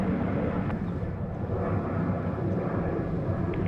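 An airplane roars steadily at Sydney Airport near runway 16 right, a broad, loud, continuous rumble with wind, no voices heard.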